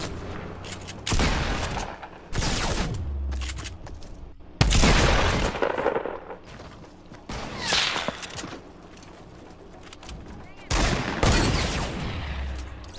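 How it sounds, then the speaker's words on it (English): Gunfire in Fortnite rings out as repeated loud bursts of booming shots separated by short quieter gaps, close and punchy, with a faint voice briefly in the background. "That was some good shooting."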